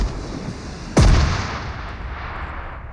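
A single loud, close gunshot from the video game PUBG on the Erangel map, with a sharp crack and a booming tail that fades over about two seconds. No voices are heard.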